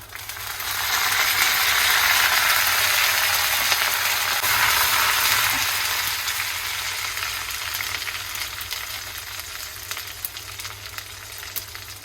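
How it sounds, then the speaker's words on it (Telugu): Chana dal tempering in hot groundnut oil sizzles steadily in a pan, a loud, continuous crackling fry that swells early and then eases slightly, with no voices. "పప్పు నూనె వేసి నేను తాలింపు వేసేస్తున్నాను"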